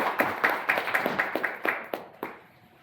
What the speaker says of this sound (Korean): 네, 박수로 맞이해 주시기 바랍니다.